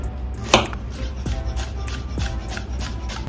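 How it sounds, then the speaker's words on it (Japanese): A knife mincing a peeled onion on a cutting board, a few sharp chops and lighter uneven taps close by, with no voices. "皮を剥いたら玉ねぎは今日はみじん切りにしていきます"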